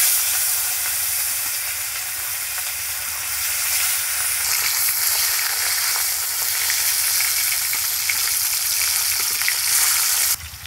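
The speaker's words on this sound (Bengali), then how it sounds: "এবার মাছগুলো ছেড়ে দেব তেলে।" Katla fish pieces, rubbed with salt and turmeric, sizzle and fry steadily in hot oil, a loud, continuous crackling hiss that holds even throughout with no talking.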